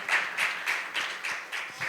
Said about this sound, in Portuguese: A gente pode dar uma salva de palmas para eles